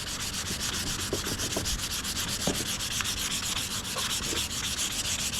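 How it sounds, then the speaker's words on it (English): Steady, continuous rasping of sandpaper rubbed back and forth over a handmade wooden wand carved from banyan tree wood, close and loud throughout with no pauses and no voices. "I'm just gonna give it one more sanding."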